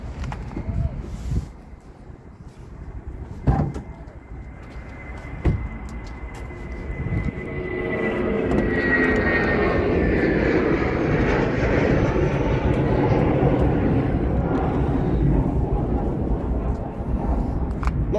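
Turbocharged petrol engine of a Kia XCeed running under the open bonnet, a steady broadband hum that swells and holds loud after a few seconds, with faint speech and brief clicks early on.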